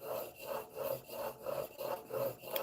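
A Stanley No. 4 hand plane blade is rubbed back and forth on an 8,000 grit sharpening stone, about eight even, close scraping strokes in a steady rhythm.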